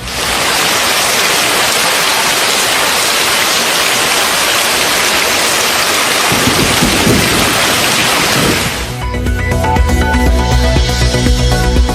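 Heavy monsoon rain pours down in Puducherry during record flooding, a dense steady roar with thunder rumbling low, then the downpour continues beside lower, steadier water sounds.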